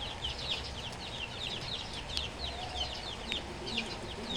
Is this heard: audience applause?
no